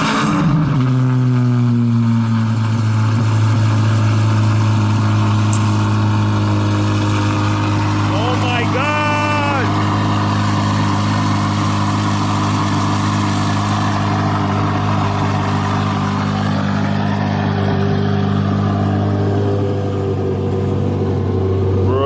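A murdered-out C8 Corvette fitted with a swapped-in V12 idles loudly and steadily up close, its deep rumble holding throughout while people talk over it.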